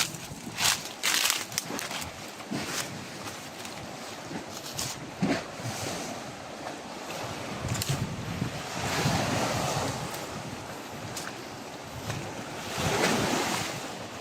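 Sea waves wash steadily around a lone house standing in the middle of the sea, a broad continuous surf roar swelling in slow surges, with gusty wind buffeting the microphone throughout.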